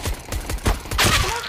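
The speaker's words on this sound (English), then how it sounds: "I can't hit with USP the whole day." USP pistol shots in Counter-Strike: Global Offensive, a quick string of close, punchy shots followed by a brighter metallic clatter.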